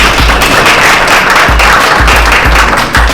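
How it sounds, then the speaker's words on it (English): Loud, continuous clapping from an audience at a national reparations conference, a steady wash of hands with a few low thumps underneath, close and unbroken throughout. "another round of applause"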